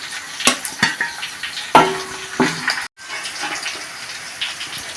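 Onion with ginger and garlic sautéing in a pan for mutton boti curry, with a steady sizzle broken by a few sharp scraping stirs of a spoon against the pan and a brief gap near the middle.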